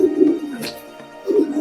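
Pigeons coo in a breeding loft during the breeding season, with soft, rounded, repeated low calls near the listener, one cooing phrase at the start and another at the end around a brief quieter gap.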